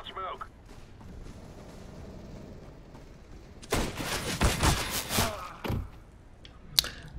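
A short run of gunfire in the CS:GO shooter, with several sharp loud shots packed close together midway through, following a quieter stretch of low background noise and ending with one last crack.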